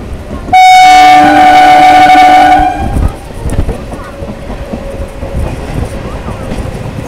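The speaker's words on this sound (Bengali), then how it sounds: "ছেড়ে দিল রেজিনগর স্টেশন।" Local train on the Sealdah to Lalgola line leaving Rejinagar station in Murshidabad district: a loud horn blast of about two seconds opens, then the steady rumble and clatter of the moving train.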